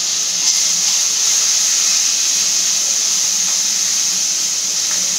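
Steamed, soft vegetables hitting hot oil in a pan, giving a steady, loud hiss of sizzling that holds evenly throughout with no talking.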